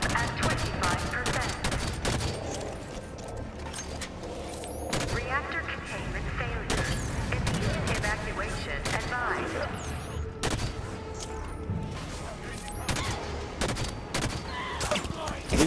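Rapid bursts of gunfire from the Halo 5: Guardians video game on Legendary difficulty, dense fusillades and sharp shots layered with explosions and game effects, loud and continuous, with a player talking over parts of it.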